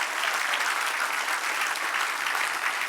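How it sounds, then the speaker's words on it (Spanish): Church congregation breaking into sustained applause during a sermon, a steady, loud wash of many hands clapping with no voices over it. "Denle un aplauso al que reina."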